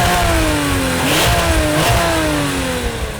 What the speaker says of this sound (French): Pot à Krapovic qui a été créé spécialement pour ce modèle-là, avec 3 sonorités différentes selon les régimes